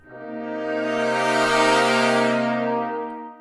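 A muted brass swell from the Poseidon brass sample library rises smoothly from quiet to a full, buzzy sustained chord and then fades away, rich in harmonics and heard alone.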